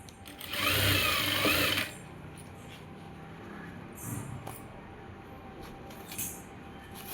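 Sewing machine stitching elastic into a toddler's pants, a loud fast whirring burst of stitching lasting about a second, then quieter handling noises and faint ticks.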